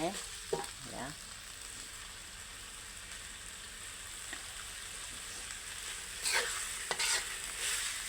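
Pork pieces stir-fried in a wok for a Thai pumpkin curry give off a steady soft sizzle. Scraping stirs come early and again near the end, with no talk.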